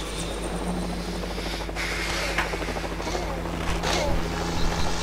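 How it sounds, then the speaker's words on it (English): A helicopter in LEGO Jurassic World, a video game, drones steadily with a low, thumping rotor hum and engine whine, loud and continuous, with faint background sounds mixed in. "There's another chopper coming."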